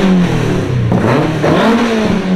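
A Toyota 4A-GE engine in a clean, original Corolla revs up and down in a garage, a close, loud mid-pitched drone with shifting pitch sweeps and no talking.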